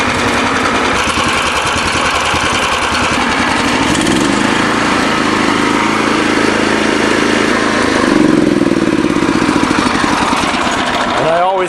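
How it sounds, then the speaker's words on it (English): A lawn mower with a Honda clone engine runs at full throttle, a loud, steady, close engine drone that holds its pitch and swells slightly toward the end. "I always cut my grass at full speed because that makes better cutting"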